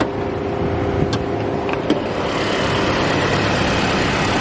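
A Toyota Prado engine runs steadily at idle with a continuous low rumble and faint mechanical clicks, close by and without speech.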